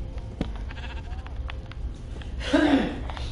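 A Minecraft sheep lets out a single close, loud bleat near the end, after a stretch of quieter game sounds.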